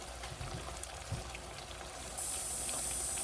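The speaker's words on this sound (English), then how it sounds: "Rinse that off my hand" Running water from a kitchen tap rinsing a hand while cooking, a steady wash that starts soft and swells into a louder, brighter stream partway through.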